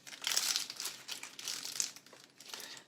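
Plastic wrap crinkles and rustles as the ends are twisted around a log of chocolate salami, a close, continuous crackling in several bursts with no voices.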